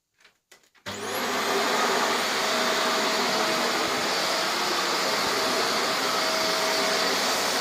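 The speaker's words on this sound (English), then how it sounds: "Now I'm gonna turn the vacuum on and show you how easy it is to start." A Vax Air Lift Steerable Pet Max upright vacuum cleaner switches on after a few soft clicks and settles into a loud, steady, high-pitched motor whine that runs close and unbroken.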